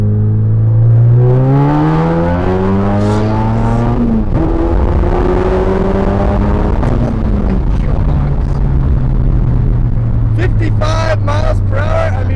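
A big-turbo Ford Focus RS pulls hard from a 45 mph roll, its engine note climbing in rising harmonic sweeps, shifting and climbing again, loud and close from inside the cabin, with turbo whooshes and a few clicks near the end.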